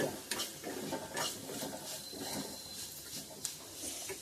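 Soft sizzling of onions frying in a pan with occasional scraping and stirring clicks, steady and close, no voices.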